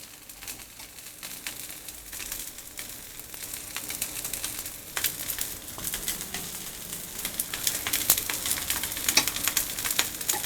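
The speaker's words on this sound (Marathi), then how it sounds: "म्हणून मी शॅलो फ्राय करते" Sweet corn patties shallow-fry in a little oil in a pan, a soft, continuous crackling sizzle that gradually grows louder, with scattered small pops and no voices.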